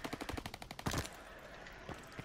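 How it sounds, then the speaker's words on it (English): Rapid bursts of automatic gunfire crackle in Call of Duty WW2, a fast string of sharp shots for about a second, followed by quieter scattered shots. "We have fire. Gun fire."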